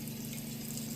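Water runs steadily from a tap as a vintage Ever-Ready 1912 single-edge razor is rinsed, a continuous close splashing hiss with an underlying hum and no voices.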